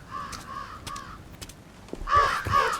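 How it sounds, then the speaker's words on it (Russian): Crows caw several times in a video game, a few harsh calls spread across the moment and then a louder burst of overlapping cawing near the end, with no speech. "идем пугать ворон"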